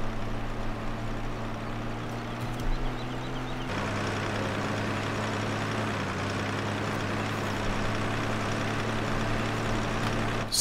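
A tractor engine in Farming Simulator 2015 drones steadily at a low, even idle-like pitch throughout, loud and continuous with a slight shift partway through, no talk over it.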